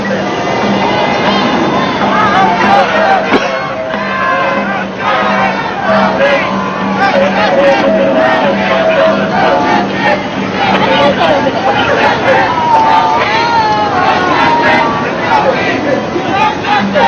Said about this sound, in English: Right, one more cheer here.